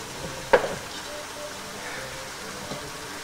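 Beef, pork, peppers and onions sizzle softly in a pot with a quiet, even crackle, and a single sharp clatter of a utensil comes early on.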